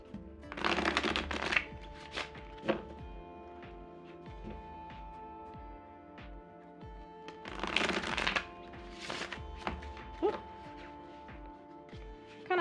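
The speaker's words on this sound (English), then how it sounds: "let's go ahead and do a rifle shuffle." Tarot cards are riffle-shuffled twice, each a quick fluttering burst of slapping cards, with softer handling clicks and taps in between.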